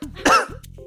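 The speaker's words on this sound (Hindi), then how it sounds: "फैक्ट्री का नाम सुनते ही खांसने लग जाता है।" A man coughs hard in a single burst, close and loud, after a brief throaty rasp, then the room goes quiet apart from faint low hum.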